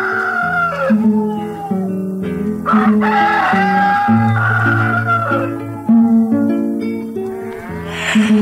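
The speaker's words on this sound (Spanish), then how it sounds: "Me despertaron estos gallos, jodidos." Several roosters crow repeatedly at dawn, overlapping loud cock-a-doodle-doo calls from nearby birds with some clucking between them and no talking.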